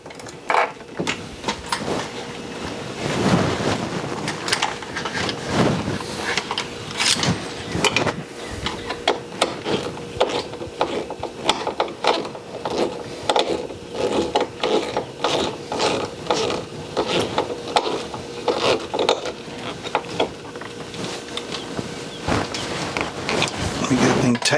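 A ground screw being turned clockwise during an old room restoration, giving rapid repeated ratcheting clicks that run continuously and close-up, with some voice mixed in.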